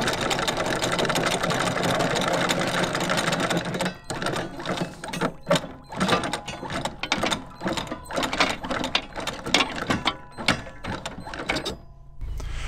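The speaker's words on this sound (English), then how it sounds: "If you hear the capstan start to strain, stop on the button and wait till the boat gets closer to the anchor." Anchor capstan on a Hanse 548 sailboat hauling in the anchor: a steady mechanical whir for a few seconds, then stopping and restarting in uneven bursts with clunks and rattles of chain, close and fairly loud.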